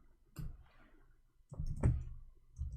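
Someone types on a computer keyboard in short bursts of quiet clicks, two clusters of keystrokes separated by a brief pause, close and soft, with no talking.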